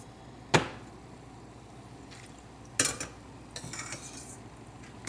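A ladle scoops fried mixed-cereal chevdo out of hot oil in a pan, giving two sharp metallic scrapes followed by softer clinks and a brief sizzle, close and fairly quiet, with no talk.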